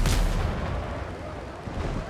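Ship cannon fire in the naval combat video game Windrose, heard as a loud booming blast at the start that rolls off into a long rumbling tail.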